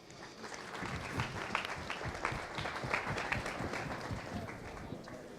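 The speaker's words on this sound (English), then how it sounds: "give a round of applause to James" Audience applause at a startup fair, many hands clapping in a busy, steady patter heard from a moderate distance at fairly low level.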